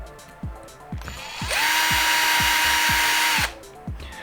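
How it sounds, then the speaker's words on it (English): A power drill driving down during a rear differential disassembly on a radio-controlled model whirs steadily for about two seconds between short ratcheting clicks before and after, close and fairly loud. "use the drill to go all the way down"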